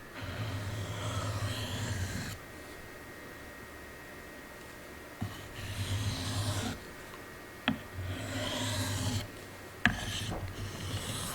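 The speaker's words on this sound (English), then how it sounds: "Oh, I do love sharpening that old one." An old knife with its original edge is drawn across a sharpening stone in long gritty rasping passes, close and clear, separated by short pauses and a few light clicks.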